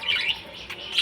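Pet budgerigars in a cage with a clay pot give a quick burst of bright, close chirps and tweets, continuous for about a second.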